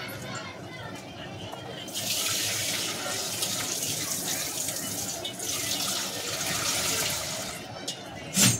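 Water poured into mutton cooking in a pot, a steady splashing stream running for several seconds with a faint voice in the background, ending with a short knock.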